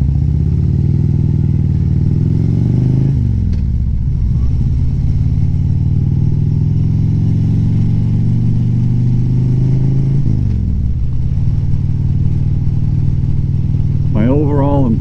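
A Harley-Davidson Road Glide touring motorcycle rumbles steadily while riding, its low engine drone loud and continuous, with gear-change dips in pitch at two points and a brief higher rising note near the end.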